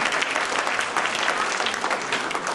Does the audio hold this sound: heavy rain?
no